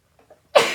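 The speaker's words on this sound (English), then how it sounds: "I feel like I gotta sneeze again." One sudden, forceful sneeze bursts out up close, preceded by two faint catching breaths in otherwise near silence.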